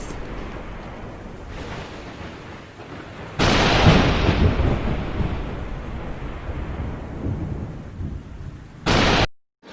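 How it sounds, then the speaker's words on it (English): A thunderstorm rumbles with low rolling thunder and steady rain, then a loud nearby thunderclap bursts in and slowly fades into a long rumble before a brief final crack; no one speaks. "In July, stormy clouds with lightning flashes."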